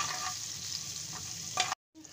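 Almonds, pistachios, cashews and green cardamom fry in ghee for khoya kimami seviyan, a close steady sizzle with light stirring scrapes, cut off briefly near the end.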